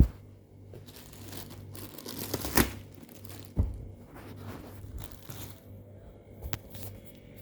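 A plastic hotel laundry bag of returned clothes is cut open on Flores Island, Indonesia, giving a soft, continuous crinkling rustle with a couple of sharper crackles partway through, fairly close and with no talking.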